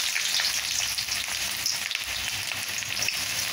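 Onions sizzle steadily in hot mustard oil as mutton gravy gets started, a continuous loud hiss with fine crackle running throughout and no pauses or voices.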